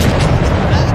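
Warship guns firing in the naval game World of Warships: loud, deep booming blasts rolling together over one second, with a voice faintly present.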